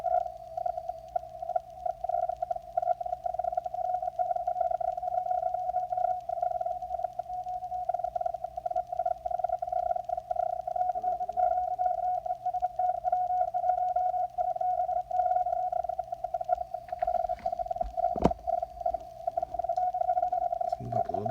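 Low, steady static hiss on the 160 meter amateur radio band during a contest, with a constant carrier tone running through it and a brief crackle near the end.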